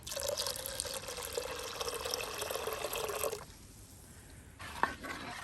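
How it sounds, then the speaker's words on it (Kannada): Coconut milk streams steadily into sesame seed juice for about three seconds, a close liquid splash and trickle that stops abruptly, leaving quiet with a single faint drip-like tap near the end. "ಇದಕ್ಕೆ ನಾನು ಅರ್ಧ ಗೆರಟೆಯ ತೆಂಗಿನ ಹಾಲನ್ನು ತೆಗೆದಿದ್ದೀನಿ, ಅದನ್ನು ಹಾಕ್ತಾ ಇದ್ದೀನಿ"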